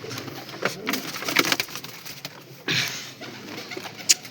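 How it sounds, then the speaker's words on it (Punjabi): Black Cheena pigeons coo in a loft, soft low calls recurring through a busy ambient wash with occasional fluttering patter and a sharp bright chirp near the end. "ਕਰੋ ਸ਼ੌਂਕ ਬਈ ਜੀ ਕਾਲੇ ਚੀਨੇ ਪੱਠਿਆਂ ਦਾ"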